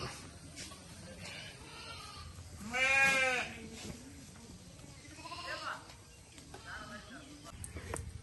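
A sheep bleats loudly once in a wavering cry during Diwali sheep-painting at a shepherds' camp, with fainter bleats later amid outdoor background noise.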